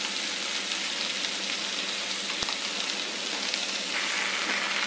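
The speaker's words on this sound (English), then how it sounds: "Now quickly add the masala that we have made in our mixie." Masala paste from a mixer going into paneer cubes already browned in a hot pan of oil for a coconut paneer curry, giving a steady, close, rain-like sizzle and crackle that holds evenly throughout with no talking.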